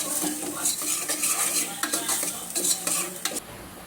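Potatoes and onions sautéing with salt in a pan for vegetable pulao, a soft sizzle broken by repeated scraping and clinks of a metal spoon stirring, close up, with no voices.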